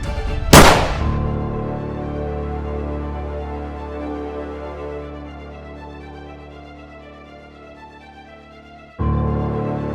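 A single sharp gunshot cracks near the start of a dramatic television scene and is followed at once by sustained, swelling background music that cuts off abruptly near the end.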